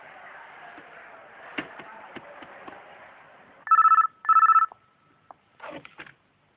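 A telephone rings in a dramatic film scene: two loud, close bursts of bright electronic ringing, followed after a pause by fainter clatter.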